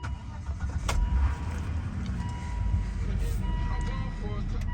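A cheap salvage-auction car running at idle, a low steady engine rumble heard from close by, with a few brief clicks and tones over it.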